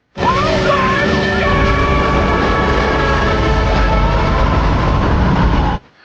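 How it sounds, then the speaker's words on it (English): A loud train roars past close by at a railway crossing, steady rumbling and screeching rails for several seconds, then cuts off abruptly; no voices. "A train was coming."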